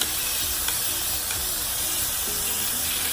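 Beef stir-frying in a hot pan for Vietnamese crispy noodles, a steady loud sizzle and hiss with faint clinks of the pan, continuous throughout.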